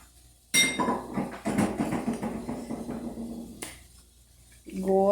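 Coconut cake batter for a chilled prestígio cake poured into a pan, with metal utensils clinking and scraping against the pan in a loud, busy burst, followed by a brief pause and a final clatter.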